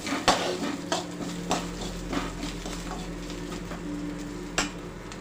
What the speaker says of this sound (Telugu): ఇందులోనే ఒక 1/2 స్పూన్ గరం మసాలా వేసుకుంటున్నాం అండి. అంతా ఒకసారి బాగా కలిపేసేసి